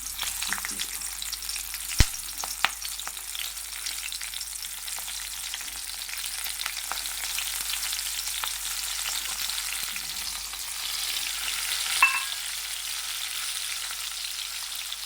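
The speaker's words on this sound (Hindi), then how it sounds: "ऑयल हमारा हो गया फुल गरम। अब हम ना इसमें हरी मिर्चियाँ रख देंगे आराम से।" Green chillies frying in very hot oil give a continuous close sizzle with a few sharp clicks and pops, steady throughout, no voices.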